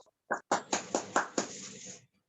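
An audience claps to welcome someone speaker onto the stage, with about six distinct claps close together before a brief trailing patter that then stops.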